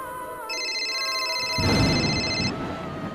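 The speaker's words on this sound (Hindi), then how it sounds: "फोन बजता है" A phone rings with a bright electronic trill over steady background noise, lasting a couple of seconds.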